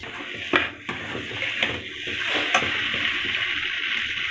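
Rice and masala stir-fried in a pan on a home gas stove, giving a steady soft sizzle with scattered scraping and stirring knocks from a spoon, close and moderately loud with no talk.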